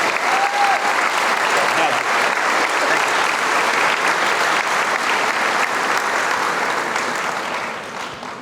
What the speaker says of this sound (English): So one quick round of applause for Gordon Smith.